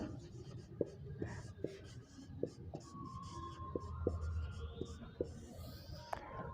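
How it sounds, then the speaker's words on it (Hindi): Chalk or marker tapping and scratching on a board while a table is drawn, a series of faint, evenly spaced strokes with quiet room tone and a little murmured speech. "यहाँ लिखेंगे अवस्था का नाम"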